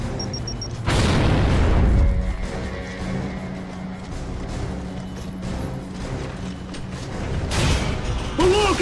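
Grenade blast in the video game Gears of War 2: a loud broadband boom bursts in about a second in, its rumble decaying under steady mechanical game ambience, with another surge near the end.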